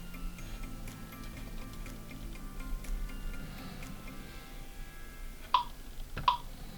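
An Epson WF-3730 printer runs with a faint, steady ticking of small mechanical clicks, then gives two short, sharp beeps near the end.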